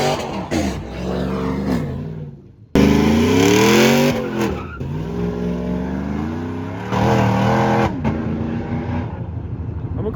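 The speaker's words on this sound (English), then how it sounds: "He's ripping a donut." A car fitted with a flamethrower kit rips a donut, tires squealing loudly in sustained wavering screeches over a revving engine, cutting in and out in bursts, close by.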